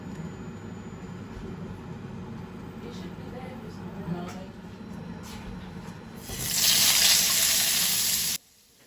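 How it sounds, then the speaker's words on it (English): Shrimps are rinsed under a running kitchen tap: a steady low wash of water, then a louder, brighter gush of flowing water for a couple of seconds before it cuts off abruptly. "So I've washed my shrimps."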